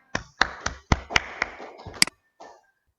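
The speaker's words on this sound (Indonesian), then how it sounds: "Berikan tepuk tangan." Applause in a classroom during an automotive lesson, a short burst of scattered hand claps from a few people, sharp and uneven for about two seconds before trailing off into a couple of faint final claps.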